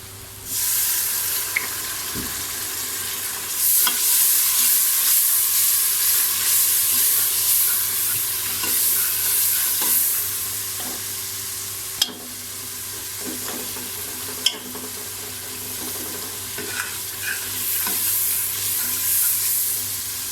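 Spices sizzling and frying in a pan for daal mash, with occasional stirring scrapes and clinks against the pan, steady throughout.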